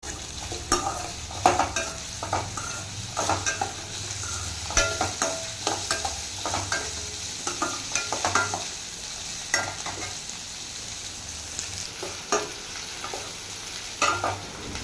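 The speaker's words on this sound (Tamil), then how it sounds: "வெங்காயத்தை நல்லா வதக்குன்னு வதக்கலாம்" Small sambar onions with curry leaves and cumin sauté in a pan, giving a continuous sizzle broken by frequent scraping stirs of a spoon against the metal, close and alone.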